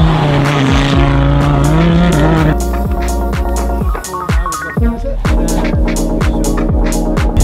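A Porsche car drives loudly up close, its engine droning steadily with rising and falling revs and gear changes at a motorsport event.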